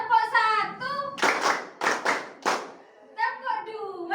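In a teaching-practice classroom in Jakarta, children chant in unison, then a few sharp, loud bursts of group hand claps ring out close by before the singsong voices return.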